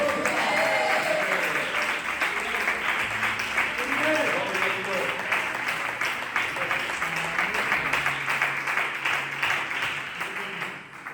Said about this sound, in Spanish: ¿Cuántos aplauden a este Rey?